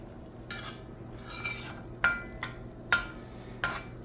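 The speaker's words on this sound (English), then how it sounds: "we're going to take now and stir everything up nice" Spoon stirring Spanish seafood stew ingredients in a metal pot, a series of about six scraping, clinking strokes spaced roughly half a second apart, close and fairly loud with no talking.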